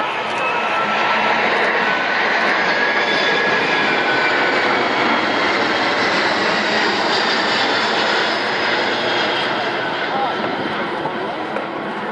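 A Hercules military cargo aircraft flies past at an air force display at an Australian airshow, its engine roar loud, broad and steady throughout without fading.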